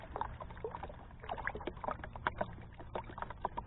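Water sloshes and splashes in a gold pan during panning beside the North Saskatchewan River in Alberta, with soft irregular swishes and light knocks at close range and no talk.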